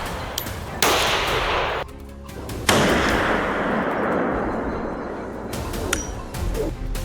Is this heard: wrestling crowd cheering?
no